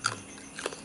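Crisp fried chicken frame bones bitten into, two quick crunchy bites, quiet and close to the mouth.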